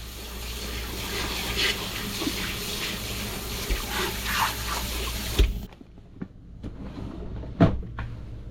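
A catfish is rinsed under a running tap, with steady water splashing into a sink for several seconds, then a sudden stop followed by a couple of faint knocks and clatters.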